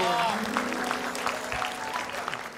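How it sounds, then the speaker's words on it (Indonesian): Studio audience of an Indonesian comedy talk show claps in a brief steady patter, with a voice briefly audible over the start. "Oh, tepuk tangan dulu."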